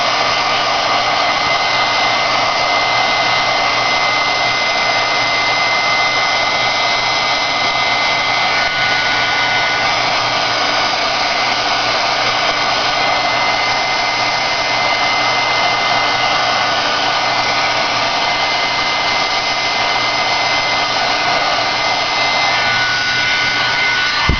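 A heat dryer blows steadily to dry wet ink on a small art card, a loud constant whooshing drone that runs unbroken throughout with no talk.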